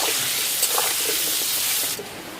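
Potatoes frying in a pan with salt and turmeric for a spicy country chicken curry, giving a steady close sizzling hiss that drops off slightly near the end.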